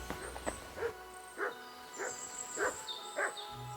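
A dog in the medieval role-playing game Kingdom Come Deliverance II gives a string of about six short, evenly spaced barks, close and fairly loud, over a quiet background.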